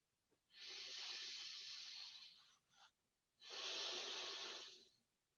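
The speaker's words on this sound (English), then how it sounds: "let me demonstrate normal breathing first" Normal breathing demonstrated close to the mic, two long airy breaths with a brief sniff between them, each a broad soft hiss rising and falling, alone with no speech.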